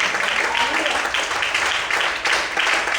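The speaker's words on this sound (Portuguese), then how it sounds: "Quantos podem aplaudir e glorificar o Senhor nessa noite?" A church congregation applauds during an evening service, a dense, steady wash of clapping that holds at moderate volume the whole way through.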